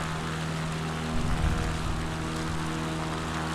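An XCub light aircraft cruises at about 65% power, its propeller engine droning in a steady, even tone from up close inside the cabin, with no voices.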